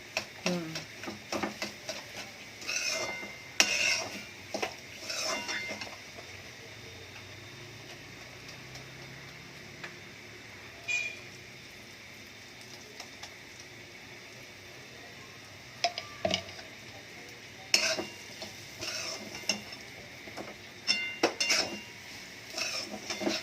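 Semolina (rava) is stirred and roasted in a pan over a low flame, with intermittent scraping and clinking of a metal spoon against the pan in irregular bursts, separated by quieter pauses.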